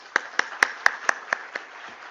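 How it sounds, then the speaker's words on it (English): A handful of people clap slowly and sparsely for dignitaries at an IPO listing ceremony, about seven distinct claps in an even rhythm fading out, over a soft room hum. "I would request the audience to keep applauding for them"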